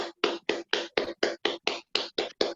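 A group at a guided meditation session claps in steady unison after the meditation ends, about a dozen sharp, evenly spaced claps in quick rhythm, close and clear with no talking.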